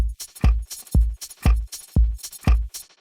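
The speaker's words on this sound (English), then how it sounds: "Just really simple house drums." A simple four-on-the-floor house drum loop: punchy kicks on every beat with crisp off-beat hats, loud and steady.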